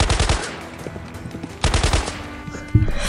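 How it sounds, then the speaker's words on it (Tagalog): Rapid bursts of gunfire from a rifle being fired in celebration, loud and close, with sharp repeated shots in a fast chattering rhythm, a pause, then another volley and a heavy final blast. "Sigaw pa ni Mang Tabyong habang nagpapaputok ng baril."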